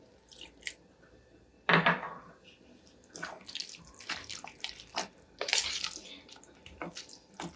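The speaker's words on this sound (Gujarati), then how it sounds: "થોડું આપણે આમાં પાણી એડ કરીશું અને બેટરને થોડું આપણે ઢીલું કરીશું" Water is poured into a sooji (semolina) batter for pudla in a kitchen, heard as a few quiet, short splashes and trickles separated by brief pauses.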